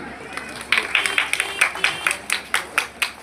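Rhythmic audience clapping, a crisp regular beat of claps over a murmur of crowd babble, at a club ceremony inaugurating a Jagaddhatri idol in Ranaghat, Nadia.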